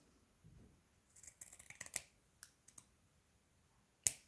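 Scissors cutting the heel off a sock: a few soft snips and clicks, close and quiet, with a sharp final cut near the end and no talking.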